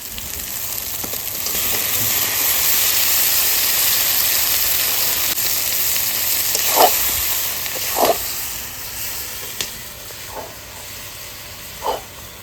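Chicken pieces frying with turmeric, salt and spices in a pan, giving a steady broad sizzle for the whole stretch, with a few sharp spatula scrapes and clinks near the end.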